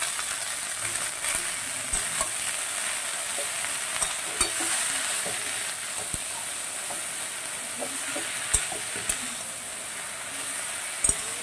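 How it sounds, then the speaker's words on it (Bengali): Chopped chickpea greens and spinach fry in a pan for a vegetarian dish, with a constant loud sizzle and steam hiss broken by sharp, irregular scrapes and clicks of a utensil stirring. "এবার দিয়ে দিচ্ছি কুচো করা ছোলার শাকগুলো, কুচো করা পালং শাকগুলো।"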